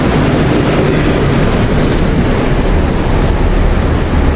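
A Moscow metro train at night rumbles with a dense, loud, steady roar of wheels and carriage noise, unbroken throughout and with no voices.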